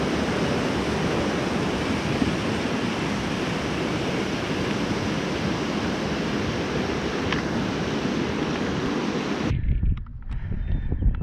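A mountain stream on the climb to Grey Creek Pass in British Columbia rushes steadily and loudly, a dense broadband wash that continues unbroken for about nine seconds before cutting off abruptly into quiet outdoor ambience.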